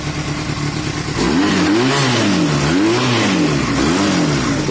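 A bobber motorcycle engine idles loud and close, then is revved repeatedly in rising and falling swells, with a clattery mechanical edge.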